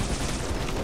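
Sniper rifle fire in Halo during a multiplayer sniper duel, a brief, loud, dense blast of gunfire filling the whole short moment.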